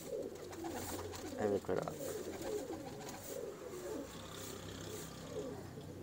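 Pigeons of a breeder pair coo in low, throaty rolling calls, close by and repeated, while someone talks over them.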